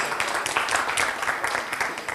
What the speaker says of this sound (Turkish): Şükrü Güler'e bir alkış